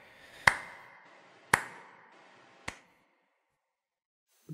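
A single person claps slowly in a quiet room after a stage performance, three sharp separate claps about a second apart, the last softer, then silence.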